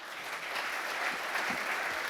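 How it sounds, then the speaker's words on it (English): Sustained audience applause for astronauts at the close of a space panel session, even and continuous clapping at moderate loudness with no speech over it. "I would like to close with a huge of applause for Senator and astronaut Marcus"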